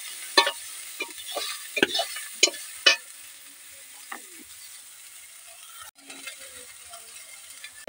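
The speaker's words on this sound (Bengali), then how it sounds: "পেঁয়াজটাকে ভালোভাবে নেড়ে নিতে হবে।" Onions being stirred and fried in oil in a pan for a spicy fish curry, with a steady close sizzle broken by sharp scraping spatula strokes through the first few seconds, then quieter frying.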